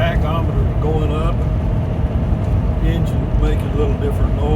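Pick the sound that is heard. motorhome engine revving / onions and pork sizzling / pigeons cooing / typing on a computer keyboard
motorhome engine revving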